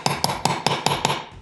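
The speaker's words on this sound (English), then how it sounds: "That was some steady hammering." A hammer strikes a nail six times in a steady rhythm, each blow a sharp, close, ringing knock, the last ones a little softer before they stop.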